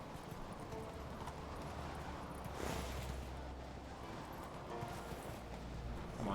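Roach, the horse in The Witcher 3, galloping with a steady, muffled rumble of hoofbeats blended into faint, windy outdoor ambience.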